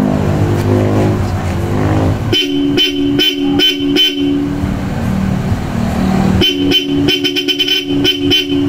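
A loud Bosch Europa car horn fitted to a Toyota Hilux pickup sounds in short repeated blasts, a quick burst of honks, a pause with road noise, then another rapid series of honks.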